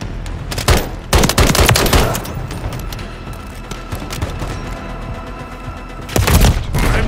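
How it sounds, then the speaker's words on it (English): Call of Duty gunfire crackles in dense automatic bursts, loud and close, with heavy volleys at the start and again near the end and steadier shooting between. "I'm taking fire."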